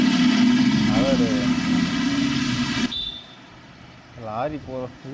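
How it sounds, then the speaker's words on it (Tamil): A lorry on a road near a quarry passes with a loud, rough engine drone that cuts off abruptly partway through, followed by quieter traffic and people talking. "லாரி போகிறது"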